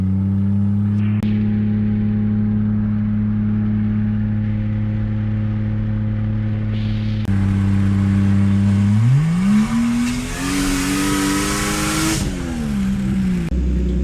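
A Lexus with a CD009 engine swap idling loud and steady, then revving up and accelerating with rising pitch before settling back, heard close with no talking.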